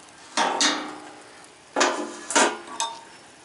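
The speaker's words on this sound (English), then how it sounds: "I'm going to put the lid back on." A metal grill lid is set back down over steaks cooking at 275 degrees, giving a few sharp clanks and rattles in two quick pairs, close and fairly loud with no talk.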